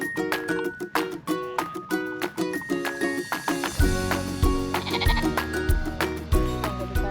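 A herd of goats bleats continuously, with many overlapping nasal calls in a steady, uneven rhythm, close and loud. Lower thumping and shuffling sounds join partway through.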